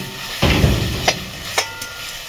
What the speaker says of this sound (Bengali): এবার মশলাটাকে ভালো করে কষিয়ে দেবো।